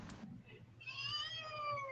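A pet cat gives a single drawn-out meow, rising then gently falling, close and fairly soft, after a brief low rustle.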